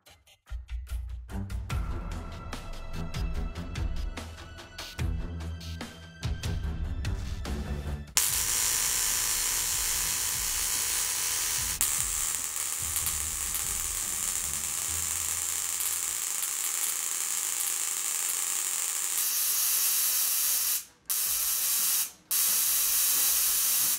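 Loud, continuous harsh hissing and sizzling crackle of a high-voltage generator discharging near an internet modem, roaring steadily with a couple of brief cutouts near the end.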